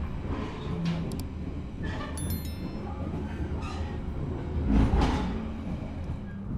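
The Ambarawa Express, a long passenger train of economy coaches departing Bojonegoro, rumbling steadily with faint wheel squeals and clatter, heard from on board with no speech.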